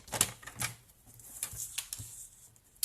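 Cardstock panel being trimmed to size for a handmade card, a few sharp cutting strokes and clicks, close and fairly quiet, with no talking.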